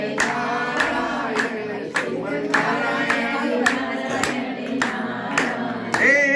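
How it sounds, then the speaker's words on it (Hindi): Hands clap loudly in a steady rhythmic beat as an audience keeps time with a devotional Narayan chant during a Satyanarayan katha, the singing voices carrying on beneath the claps. "बोलो जोर से ताली बजा के"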